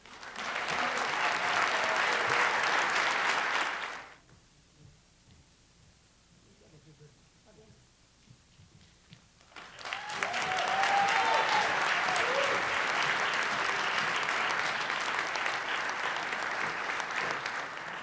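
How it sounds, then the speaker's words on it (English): A high school athletic Hall of Fame audience applauds an inductee: a loud burst of many hands, a few seconds of quiet room hush, then a second sustained round of clapping that runs to the end. "I'd like to have a round of applause for our next inductee, Mike Dunphy"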